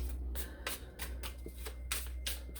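Tarot cards being shuffled by hand, a series of crisp riffling bursts and soft slaps in an uneven rhythm, close and alone without talk.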